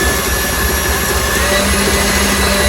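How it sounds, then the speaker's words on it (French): An electric mixer whirs at top speed beating eggs with sugar for a Christmas log, a loud, steady, dense motor drone filling the whole clip without any voices. "on va battre nos œufs avec le sucre au petit boulet jusqu'à complet refroidissement, donc à vitesse super rapide"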